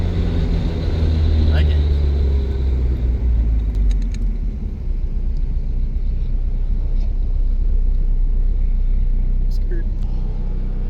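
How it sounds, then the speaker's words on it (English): A 396 hp SR20 turbo Nissan S15 Silvia pulls hard through its gears, a loud, dense low engine roar heard from inside the car, with people talking over it. "Man, she gets through the gears quick, huh?"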